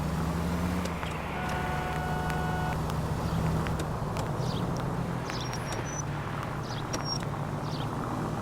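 A car driven in the L.A. Noire game, a steady low engine drone with passing vehicle rumble and faint higher tones, continuous throughout with no talk.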